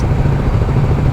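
A 2024 Kawasaki Ninja 650 motorcycle engine runs loud and close in a steady, gruff low drone, held at a fairly constant pitch through a short burst, with no talking over it.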